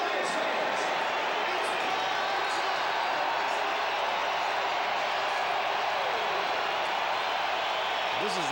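Roaring stadium crowd at BC Place Stadium during a CFL football game between the Saskatchewan Roughriders and BC Lions, a dense, sustained wall of cheering noise heard steadily throughout with faint announcer speech beneath.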